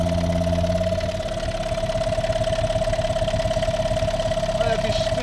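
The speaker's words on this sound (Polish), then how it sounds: "po tych regulacjach chodzi generalnie silniczek tak na wolnych" A small model engine idles after tuning, holding a steady, even buzz at low revs with a fast regular pulse throughout, close and fairly loud.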